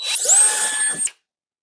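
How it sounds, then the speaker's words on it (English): A power drill whirs up to speed and bores a hole through drywall, about one second of high-pitched spinning before it stops abruptly. "So for these, we're just going to drill our hole here."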